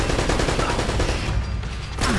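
Bursts of rapid gunfire in the video game Uncharted: Drake's Fortune rattle loud and close for about two seconds, dense and overlapping, with no talk.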